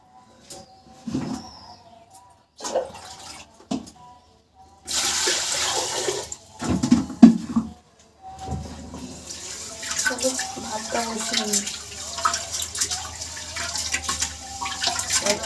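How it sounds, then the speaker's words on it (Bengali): A tap runs with splashing water, first in short gushes and then as a continuous stream, with loud close spatter over a domestic background. "কলের জলটা বেশি ঠান্ডা"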